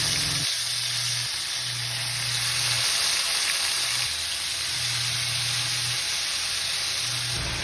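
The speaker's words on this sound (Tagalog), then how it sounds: "pwede na tayo magprito" Marinated pork steak sizzles steadily in a frying pan on low heat, a continuous close hiss with no talking.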